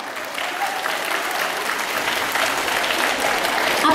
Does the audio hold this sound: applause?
yes